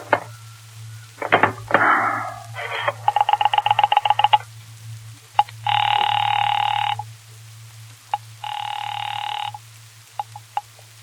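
Rotary telephone dialing clicks followed by repeated bursts of a busy signal tone over a steady low hum, from a 1945 radio drama, loud and close with no talking.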